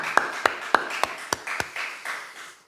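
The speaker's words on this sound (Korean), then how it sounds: "우리 하나님께 영광의 박수를 올리겠습니다" Six sharp, evenly spaced claps ring out close by in a church service, followed by a softer, fading patter of scattered clapping.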